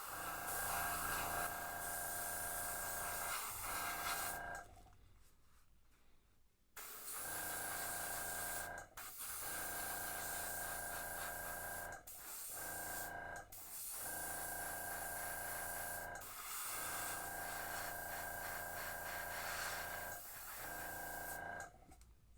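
An airbrush sprays metallic blue and silver paint onto fishing jig heads for albino shad colors, a steady close hiss running in long bursts with short pauses between passes.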